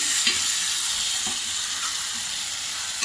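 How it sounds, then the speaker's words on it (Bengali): Cauliflower and potato pieces frying in hot oil while being stirred, a steady broad sizzle with faint scraping of the spoon, continuous and close with no voices. "ভালো করে কষাবো।"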